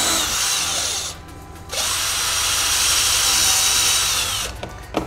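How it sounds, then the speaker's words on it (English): A power drill with a step drill bit whines steadily as it bores through material, pausing briefly once before grinding on, loud and close. "I use just a regular drill with a stepper bit"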